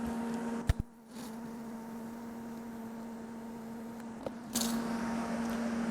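Welding metal for a vice mounted press brake, a steady buzzing hum with a constant tone, broken by a brief pause and a few sharp clicks before resuming, close and even.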